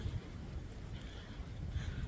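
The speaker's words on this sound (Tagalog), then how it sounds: "Ang lakas ng hangin." Strong wind batters the microphone outdoors on a rainy morning with steady, rumbling low gusts and no voices.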